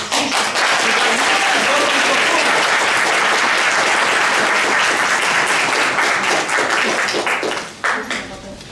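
An audience at a regional Warmian dialect contest gives loud, sustained applause, dense clapping running steadily before easing slightly near the end.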